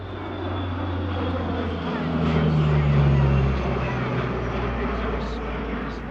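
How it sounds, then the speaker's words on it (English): HARS AP-3C Orion maritime patrol aircraft flying at the Wings Over Illawarra 2022 airshow, a loud continuous propeller drone that swells as it passes overhead and then eases, with possible faint voices beneath. "Up next, HARS AP-3C Orion."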